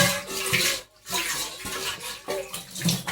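Plates with leftover batter are washed under running water in a kitchen sink: gushing tap water with dish clatter, briefly cut off once then resuming, no talk.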